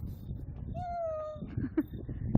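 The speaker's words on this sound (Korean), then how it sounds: "어머 야옹이다." A single drawn-out cat meow, fairly soft and close, rising then sliding down, with faint background rustling and a couple of light thumps.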